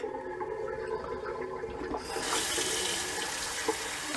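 A cold-water tap starts running midway to wet a shaving rag after a straight razor shave, a soft hiss of flowing water in a bathroom sink, quiet and steady.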